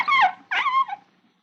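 A dog gives two sharp, high yelps in quick succession while a man goes at it, loud and close, with no other sound around them.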